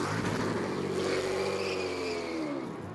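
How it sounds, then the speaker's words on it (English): Engine of a BMW-powered Riley prototype race car revving hard during a pit stop at the 2011 Rolex 24 at Daytona, a loud, close, sustained roar with rising and falling pitch and no talk over it. "He wants to go, revving the engine, fuel still flowing, fuel's out."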